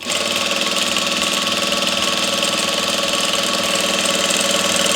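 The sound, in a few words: sewing machine stitching satin and cotton fabric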